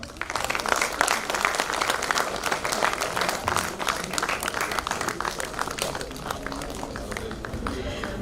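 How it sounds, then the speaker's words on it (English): A hospital drill audience gives a sustained round of applause, dense steady clapping with some crowd noise, lasting throughout without a break. "Round of applause for them."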